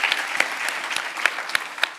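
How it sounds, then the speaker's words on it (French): An audience at a talk on Black activist history applauds, a continuous bed of clapping with distinct sharper claps standing out near the front at irregular intervals. "Il faut les applaudir"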